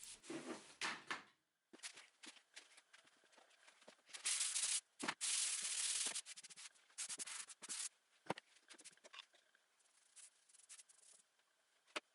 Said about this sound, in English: I scuffed the surface with 320 grit sanding pad just to smooth it out